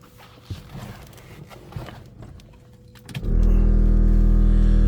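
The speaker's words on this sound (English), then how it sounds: "That's the compressor for the air ride you hear running." After some clicks and knocks, the air ride suspension compressor of a 1963 Chevrolet Impala Custom kicks in and runs loudly with a steady electric hum and whine.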